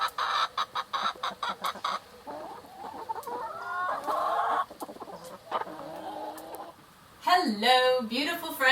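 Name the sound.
young rooster crowing weakly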